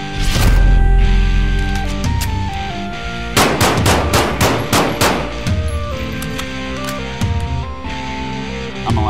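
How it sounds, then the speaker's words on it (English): A cheap $60 Temu ballistic helmet takes fire from .22 Long Rifle, 9mm and .44 Magnum guns. Loud, close shots crack in a rapid cluster, then come more sparsely over steady background music. "we're gonna test this helmet out with some 22 long rifle, 9mm, and 44 Magnum"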